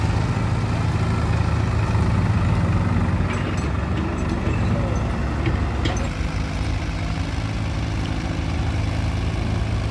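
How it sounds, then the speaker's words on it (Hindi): A Mahindra 275 XP Plus tractor engine labours up a slope, a steady, loud, low rumble that continues without a break and with no voices over it. "ट्रैक्टर बिल्कुल खड़ा होके आ रहा है"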